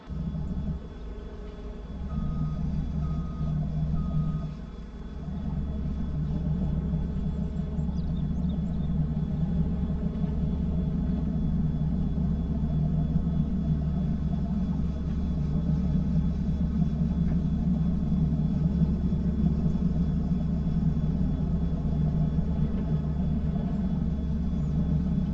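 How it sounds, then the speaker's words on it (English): An excavator in Farming Simulator 22 drones with a continuous low engine rumble as it moves at a sawmill, steady and close for the whole stretch with only a brief dip early on. "We're going to need to move the excavator."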